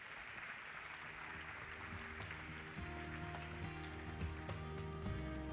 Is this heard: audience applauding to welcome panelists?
yes